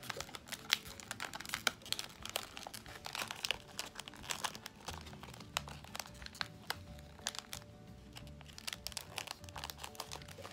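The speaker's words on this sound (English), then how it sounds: "then I just like to fold it down like this" A paper Ring Pop wrapper is folded and creased by hand, with steady close crinkling and small crisp clicks and taps throughout, no voice heard.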